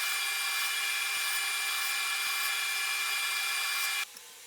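An acoustic guitar neck heel is rubbed against a sanding board, giving a steady, close, loud rasping hiss with two faint ticks. It stops abruptly near the end, leaving quiet room tone.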